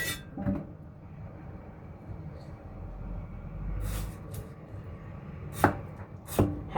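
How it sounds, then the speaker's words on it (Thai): A few sharp knife chops through tomatoes hit a cutting board at irregular intervals over a low background rumble. "หั่นซะเลย"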